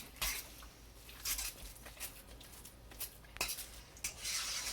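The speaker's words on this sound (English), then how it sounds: "But we can give it a stir to start" A spoon stirring zucchini fritter batter in a bowl makes soft, close scraping and wet patter in uneven strokes, with a few brighter scrapes against the bowl.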